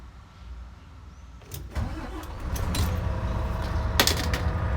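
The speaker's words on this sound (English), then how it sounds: "So I'll just go to start the vehicle up." A Volvo truck engine cranks and catches, rising from a quiet background into a steady, loud, close diesel idle with a few clicks and knocks along the way.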